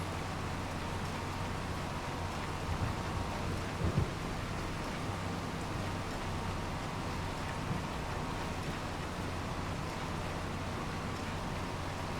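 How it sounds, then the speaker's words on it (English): Steady rain falling outdoors, a constant even hiss with a low rumble underneath and a few faint thumps, no voices. "now it's raining"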